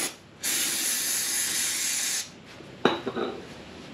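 Cleaner sprays onto a 2023 BMW S1000RR motorcycle in one long steady hiss lasting about two seconds, followed by a few short clicks and handling sounds.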